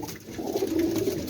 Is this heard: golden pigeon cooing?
yes